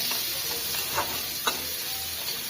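Shrimp frying with onion and lentils in a pan gives a steady close hiss and sizzle, with a couple of brief clinks or stirs breaking through.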